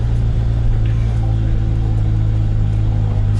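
Car engine droning loudly in third gear while lapping a track, a constant close rumble from inside the cabin with no clear rise or fall.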